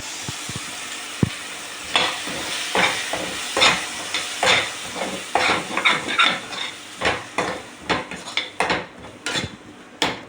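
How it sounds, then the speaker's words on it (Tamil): Tomato paste sautés with ginger and garlic in a pan for broccoli peas kurma, with a constant sizzle broken by repeated close scraping and clinking strokes of a spoon against the metal. "சேர்த்து வதக்கிக்கலாம்."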